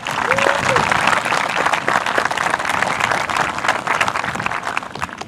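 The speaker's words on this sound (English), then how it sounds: "Let's give them a round of applause again." Sustained audience applause fills a graduation ceremony hall, dense and loud clapping from a large crowd continuing throughout, with a brief voice briefly audible underneath.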